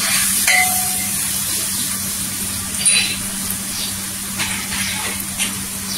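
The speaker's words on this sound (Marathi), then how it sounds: "इथे सुके मसाले आहेत ना छान असं तेलावर परतून घ्यायचं." Dry spices, coriander powder and turmeric, sautéing in hot oil, a steady close sizzle over a low hum, with a few light stirring scrapes and clinks.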